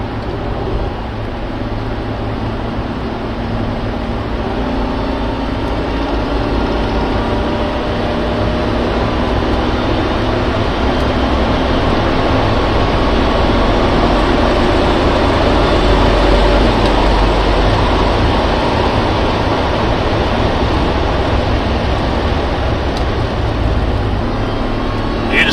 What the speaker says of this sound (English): The supercharger, I really like that noise.